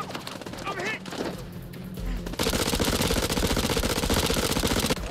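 Dense, sustained gunfire in the horror video game House of Ashes, erupting partway through and roaring loud and continuous to the end, following tense quieter moments with a voice speaking.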